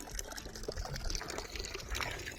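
Irrigation water trickles and splashes softly and unevenly on a farm, a gentle flowing sound heard close by and alone.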